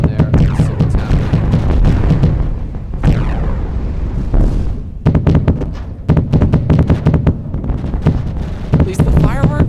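Fireworks bursting in the video game Gimbal, a rapid string of loud booms and crackling bangs with short gaps between volleys, close and dense throughout.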